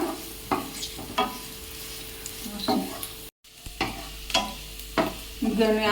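Onions sizzle softly in a pan for a spicy chicken curry while a spoon scrapes and stirs them in irregular strokes, a steady low fry hissing underneath with a brief dropout midway.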